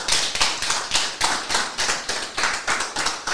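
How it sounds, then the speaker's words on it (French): A hall audience applauds after a talk on secularism in Évry, France, a dense, steady clapping from many hands with rhythmic swells, close and loud, with no voices over it. "Je pense qu'on peut l'applaudir"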